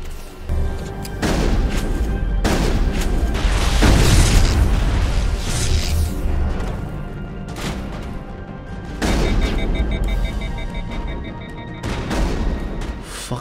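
Shotgun blasts from the Mass Effect video game boom out in loud, heavy bursts, several shots spaced a second or two apart over a continuous rumbling battle backdrop.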